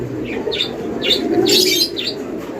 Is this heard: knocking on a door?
no